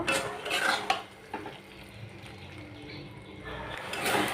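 Lote (Bombay duck) fish curry is stirred in a pan as the liquid cooks down, with scraping and clinking of a spatula against metal, a low bubbling hiss, and a voice talking through part of it.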